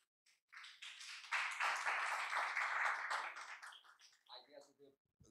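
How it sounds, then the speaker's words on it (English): Audience applause at the opening speech of the INGENIUM Staff Academy in Romania: a dense wash of clapping swells for about three seconds, then thins out as a voice takes over. "The applause goes to Mona Lisa."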